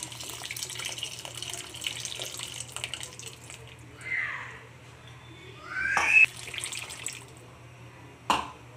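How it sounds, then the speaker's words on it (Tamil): Tamarind water poured into a mixer jar during South Indian home cooking. It comes as a soft, steady splashing wash that rises and falls, with a couple of sharper knocks toward the end. "இப்போ புளி தண்ணி கொஞ்சம் ஊற்றிடலாம்."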